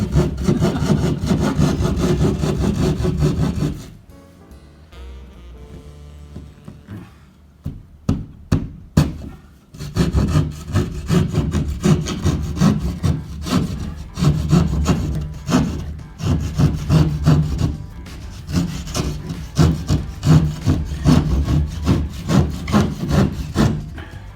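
A circular saw cuts drywall in a basement with loud, gritty rasping. A quieter stretch of sharp clicks and taps breaks it midway before the cutting resumes in uneven surges.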